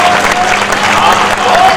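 Audience applause at a Hindi kavi sammelan poetry recital, loud continuous clapping from a crowd with faint voices mixed in.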